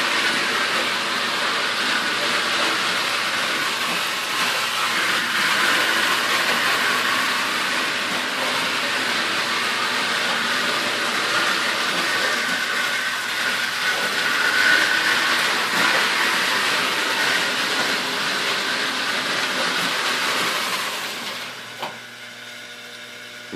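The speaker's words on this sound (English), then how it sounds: "This is more of a continuous run of these trains." A steady mechanical whirring and rattling of a Lionel postwar model train running continuously on track, fairly close, fading out near the end.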